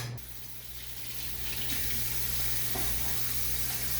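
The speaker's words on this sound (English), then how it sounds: "let's get to step one, which is going to be washing your hands" Tap water runs steadily into a sink during handwashing, a continuous broadband splash and hiss that grows slightly louder over the clip, with no voices.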